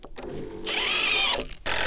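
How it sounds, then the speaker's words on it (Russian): A power drill drives screws into a wooden floor joist, with a loud sustained whine that cuts off briefly and then starts again. "Поэтому надо бы засверлиться."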